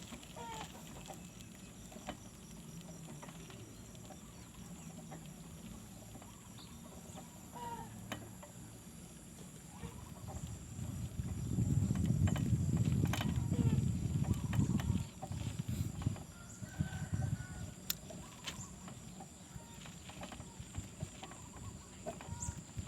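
Chickens cluck and rustle on a farm at feeding time, a low, busy murmur of fowl that swells into a louder, crowded flurry midway, with occasional sharper calls over steady background noise.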